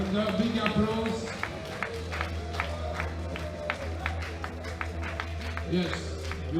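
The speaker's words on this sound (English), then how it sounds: "Okay, and a big applause." Audience applause at a world classic powerlifting championship, sparse rhythmic clapping over a constant low hum, with a voice speaking over the start.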